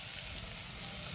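Mashed boiled potato sizzling and frying in spiced tempering oil over low flame for homemade samosa filling, a steady soft crackle with a low bubbling hiss throughout, no talk.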